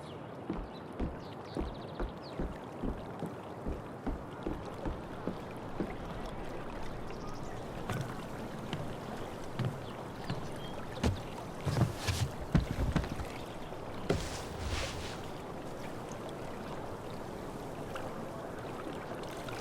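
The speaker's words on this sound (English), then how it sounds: "If not for the paddling, kayaking would be super relaxing" A kayak paddled through water in the video game Life is Strange True Colors, with steady rhythmic paddle strokes at first that give way to a continuous wash of water and wind.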